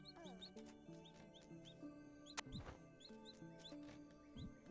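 Chickens in the farming game Dinkum cluck and chirp in quick repeated bursts over a steady game soundtrack, clear and close with no talking.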